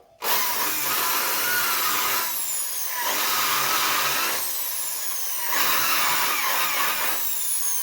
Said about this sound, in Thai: เมื่อได้เป็นที่เรียบร้อยแล้วก็ทำการ เจาะตีตะปูเลยนะครับ